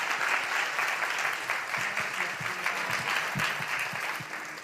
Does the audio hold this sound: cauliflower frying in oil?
no